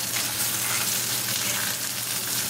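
Breaded pork loin chops fry in a covered pan over a medium flame, giving a steady, close, even sizzle and crackle of hot oil with no voices.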